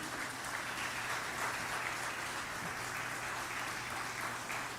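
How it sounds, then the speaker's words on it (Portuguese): A church congregation claps in praise during a service, a soft, distant, continuous patter of many hands over a steady low hum. "Aleluia, aplauda ao Senhor Jesus."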